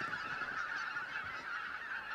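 Red-breasted geese calling in a steady, dense chorus of honking, a continuous flock clamour heard without any talk.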